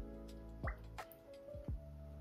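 Hollow bloops and drips of water gurgling in a sink drain, three distinct plopping gulps over a low steady hum, fairly quiet.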